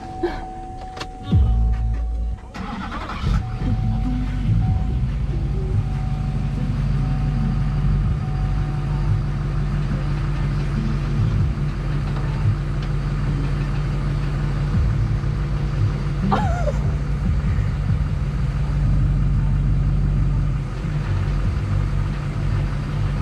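A trashed, dumped motorhome cranks briefly and catches, then settles into a loud, steady low engine rumble that runs on continuously with a faint whine, close by.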